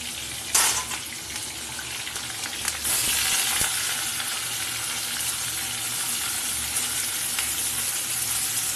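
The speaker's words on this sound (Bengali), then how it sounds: "এবার আমি ফুলকপি ভাপানোগুলো দিয়ে দেবো ফুলকপি ভাপিয়ে নিলে কী হয় বেশ ভালো করে ভাজানো হয়" Steamed cauliflower florets hit hot oil with a sudden burst of sizzling, then settle into a loud, continuous frying hiss close up that runs to the end, with no voices.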